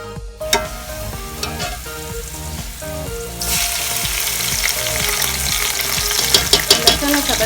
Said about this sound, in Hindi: और जब तक प्याज ब्राउन हो रहे हैं